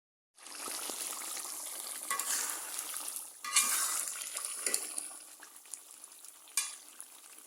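Beef sizzles and is stirred in a hot pan while being cooked down for a beef and potato curry, with scraping strokes and bursts of frying noise, close and fairly quiet.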